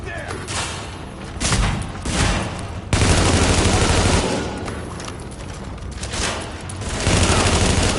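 Heavy gunfire erupts in The Division video game, with loud bursts of automatic fire and booming impacts in several waves that stop and start, and voices come through between the volleys.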